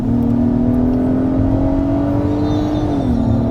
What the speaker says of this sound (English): It sounds really good, this motor.